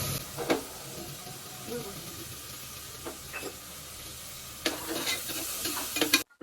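Onions fry with salt in a pan, giving a faint, steady sizzle and hiss broken by a few quiet stirring scrapes, with a louder rustle just before the end.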